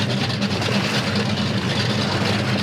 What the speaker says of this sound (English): Cody, why doesn't your boat sound like that?